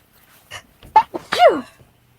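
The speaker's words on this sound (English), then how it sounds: "I'm sneezing a lot." A few short, sharp sneezes burst out close by, one after another, with brief quiet gaps between them.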